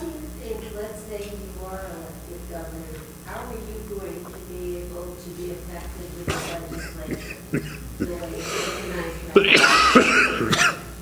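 A person talks at a legislative hearing, then several sharp coughs and throat-clearing bursts break in, the last cluster louder and harsher than the rest.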